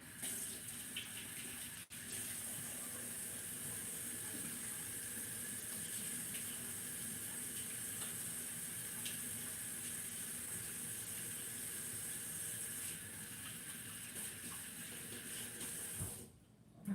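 Water runs steadily from a kitchen tap while hands are washed, a constant close hiss and splash lasting almost the whole time, with a small knock early and a change as the flow stops at the end.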